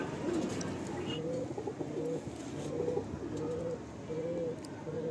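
Close, steady cooing from a single male pigeon in a loft, a run of low rounded phrases repeating every half second or so against a quiet background.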